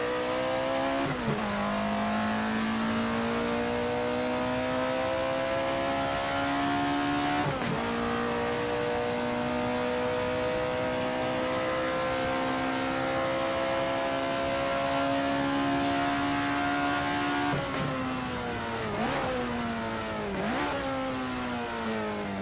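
An Alfa Romeo 33 Stradale engine in Assetto Corsa revs steadily and loudly, climbing to a screaming peak near 9,000 rpm, with brief dips at each gear change before the pitch rises again.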